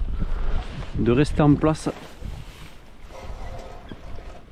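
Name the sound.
wind blowing outdoors by the water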